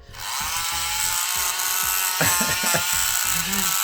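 An old motor-driven walking toy runs on a smooth surface with a steady, close, buzzing motor whine and rhythmic mechanical clatter, while someone talks over it.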